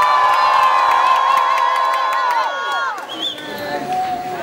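An indoor crowd at a dance battle semi-final cheers, whistles and shouts loudly and continuously, with high-pitched screams rising and falling throughout.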